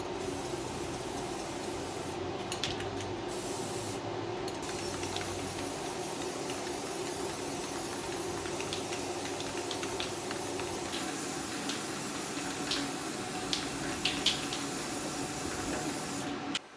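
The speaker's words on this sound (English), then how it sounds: "after spray painting the barrel and the legs right here" Rust-Oleum flat black high-heat spray paint hissing onto the barrel of a Pit Boss smoker in one long, steady, close spray, broken only by a few brief pauses and faint clicks.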